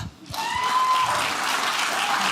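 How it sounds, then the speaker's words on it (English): Comedy club audience at a stand-up comedy special bursting into sustained, loud applause after a brief near-silence, clapping steady and dense throughout, with a faint tonal whistle-like sound near the start. "Can you clap?"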